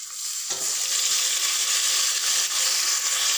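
A ground paste of tomato, shallot, mint, fennel, poppy seed and cashew drops into hot oil for mint biryani, setting off a loud, dense, continuous sizzle that holds steady close up.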